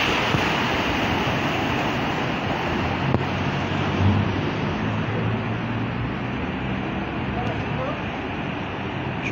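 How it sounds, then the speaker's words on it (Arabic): Cars push through flooded city street water after heavy thunderstorm rain, a loud, constant rushing wash of water and engine noise that fills the whole stretch, with a voice speaking over it. "شوف السيارات كدوز هنا بصعوبه"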